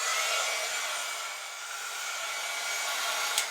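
Heat tool blowing steadily as it heat-sets craft paint, a continuous loud airy whoosh with a brief louder puff near the end, no talking.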